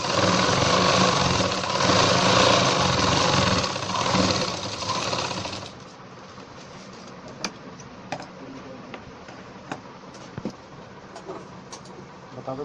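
An electric sewing machine stitches a ladies' pant seam, running loud and steady for about six seconds before stopping, followed by quieter clicks and handling taps.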